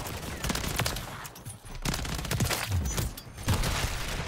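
Rapid bursts of automatic gunfire from the video game Modern Warfare 3, with several sharp clustered shots and brief pauses between volleys, loud and close.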